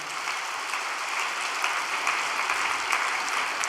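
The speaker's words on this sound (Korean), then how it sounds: "우리 안수 봉사자들에게 격려의 박수를 한번 보내주시기를 바랍니다" Steady applause from a congregation at an overnight Korean church devotion service, dense and continuous clapping at an even level throughout without any talk over it.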